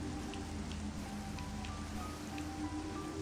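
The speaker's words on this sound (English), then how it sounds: "it was just like the raindrops on the helmet" Rain patters steadily on the visor of Samus's helmet in Metroid Prime Remastered, a soft, even hiss of droplets with scattered light taps over a low ambient hum.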